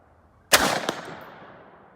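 A single sharp rifle shot from a Sig Sauer Virtus AR15 at an outdoor steel target, a loud crack followed by a quick metallic ping and a long fading echo.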